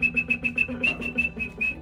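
Repeated short whistles, about ten evenly spaced, piercing bright notes over steady background noise, close and fairly loud.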